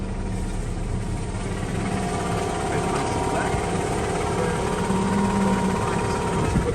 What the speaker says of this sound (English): We've got the tractor keeping us nice and straight.